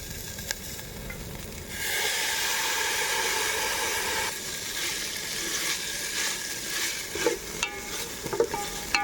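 Mint being stirred into onions and ginger garlic paste frying in a pan: a steady, bright sizzle with scraping strokes of the spoon and soft clinks, and no voices.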